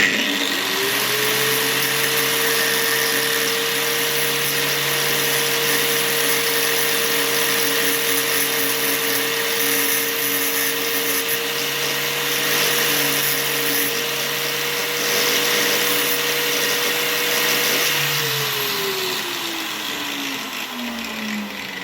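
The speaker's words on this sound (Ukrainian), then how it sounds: "Це все треба буде підшліфувати" A power tool works on aluminium cylinder heads from an old military motorcycle, running at a steady, loud whine for about eighteen seconds before spinning down, with a harsh abrasive hiss over the motor tone.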